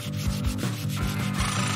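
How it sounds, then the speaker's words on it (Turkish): A rasp files in a cartoon renovation scene, making repeated rhythmic scraping strokes that are close and fairly loud, with no voices. "Kesinlikle törpü yapılmalı."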